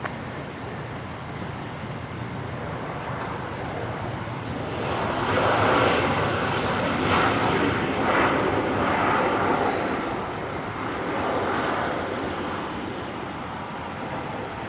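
A jet airliner at Brisbane Airport lines up and takes off on runway 01 right, its steady engine roar swelling to a broad peak midway and then settling, heard from a distance with no speech.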